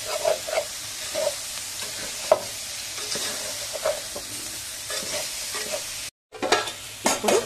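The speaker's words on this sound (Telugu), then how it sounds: "ఇప్పుడు గంటతో కలుపుకుందాం." A ladle stirs ginger-garlic paste frying in a pan for capsicum masala curry, with a steady sizzle and repeated light metallic taps and scrapes, close up, broken by a brief silent cut near the end.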